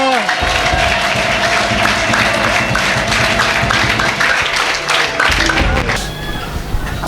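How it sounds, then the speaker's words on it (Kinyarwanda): A church congregation claps loudly and continuously in dense, crackling applause that fills the whole stretch, with a voice speaking over it and a brief dip near the end. "Katukomere Yesu amashyi menshi."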